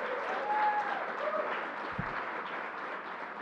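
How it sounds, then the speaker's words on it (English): Audience applause fills a press conference at LEGOLAND New York, a steady broadband patter of many hands clapping at close-to-mid distance, holding even for the whole stretch with no voice over it. "Let's give Stephanie Johnson a big round of applause."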